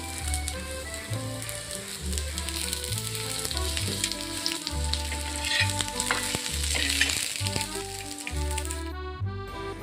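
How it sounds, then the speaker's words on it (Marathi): Sliced onions sizzle and crackle in hot oil in a pan, a loud continuous frying with stirring scrapes throughout, no speech over it. "कांदे चांगले लाल रंगाचे होईपर्यंत आपण भाजून घेणार आहे त्यात थोडं तेल टाकतोय"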